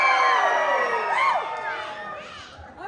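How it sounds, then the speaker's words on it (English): A live audience at an annual stage event screams and cheers loudly for a team of performers, a dense crowd roar with high shrieks and whoops that gradually fades over a few seconds. "I want to hear you scream as loud as possible"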